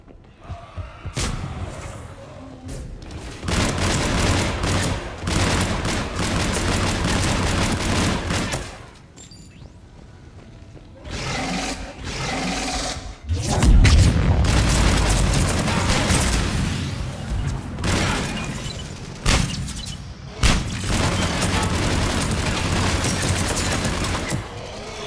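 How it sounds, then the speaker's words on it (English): Heavy gunfire and explosions in a Mass Effect 3 battle: loud sustained bursts of rifle fire and booming impacts roll on almost continuously, with brief lulls between the barrages. "Foxtrot and Bravo are taking heavy fire."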